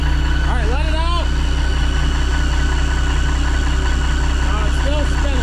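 A cheap semi truck's engine idles steadily with its drive shaft spinning in neutral, a continuous low rumble close by, with brief squeaky whines over it.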